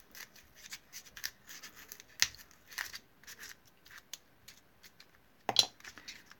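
Scissors cut down the side of material for a handmade gadget, a series of faint, close snips with two sharper cuts standing out.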